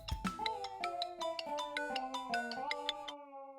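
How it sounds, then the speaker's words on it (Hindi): A phone ringtone plays a bright, clear melodic sequence of chiming notes for about three seconds, close and alone, then stops. "देख, फोन आ गया।"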